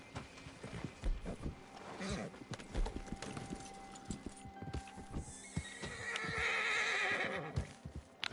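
A horse in the video game Red Dead Online neighs and whinnies loudly several times, with hoof clip-clops and game sounds around it and a longer, restless whinny near the end.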